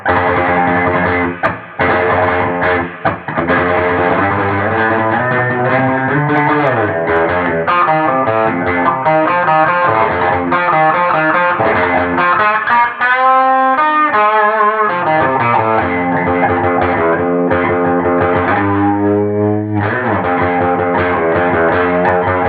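Stratocaster electric guitar played through an Egnater amp and Digitech effects with drive and reverb, loud sustained chords and single-note lines with a distorted edge and washy tail, played alone.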